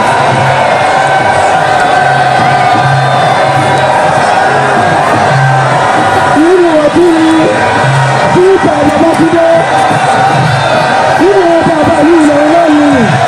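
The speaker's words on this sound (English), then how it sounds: "anxious crowd welcomed the Emir and his entourage with tumultuous ovation" A large crowd at the Durbar festival roars and cheers to welcome the Emir and his entourage, a dense, loud, continuous ovation with whoops and shouts rising over the din throughout.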